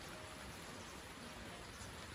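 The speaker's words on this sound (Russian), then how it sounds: "Вечерний грибной дождик." Light evening summer rain patters steadily as a soft, even hiss outdoors, faint and continuous with no voices.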